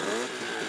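A vintage motorcycle engine with two pistons and two carburettors revs hard and steadily at a retro car and motorbike show in Beauzelle, with a dense, buzzing drone held close and loud for under a second.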